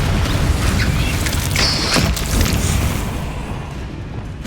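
Fire-spell blast from the Confringo curse in Hogwarts Legacy, a heavy sustained booming roar with rumbling debris that swells and then tails off, loud and close with no voices.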